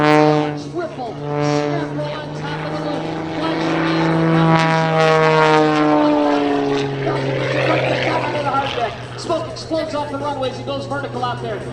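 An aerobatic propeller airplane rolls and climbs at the Spirit of St Louis Airshow, its engine drone steady and loud throughout, with an announcer talking over it.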